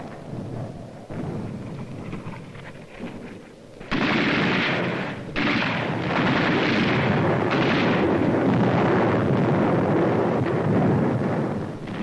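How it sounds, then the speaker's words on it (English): Mortar and artillery fire in a wartime battle near Mount Lungo at San Pietro, a continuous loud rumble of distant blasts with wind noise, swelling sharply about a third of the way in and staying heavy throughout. "Mortar and artillery were deadly accurate by reason of excellent enemy observation from Mount Lungo"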